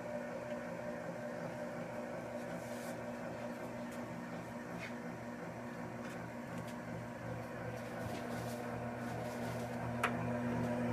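An electric honey extractor spins at a steady speed, giving a constant low mechanical hum with faint rattles and a few light clicks over eleven seconds.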